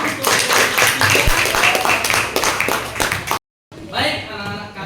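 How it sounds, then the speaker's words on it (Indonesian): A school audience claps together in a burst of applause under a speaking voice, cut off abruptly by a short silence before talking continues. "Tepuk tangan dulu untuk"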